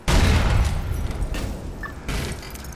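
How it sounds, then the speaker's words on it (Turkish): An explosion in GTA IV: a loud, sudden boom with a rumbling tail, followed about two seconds later by a second, weaker blast. "Bu patlama sesimiz."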